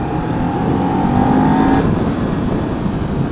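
A 2019 Kawasaki Z400 motorcycle pulls in third gear with a gentle throttle roll-on, its engine note rising steadily and loud close up over continuous wind rush.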